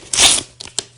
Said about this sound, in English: I'm just going to rip some tape off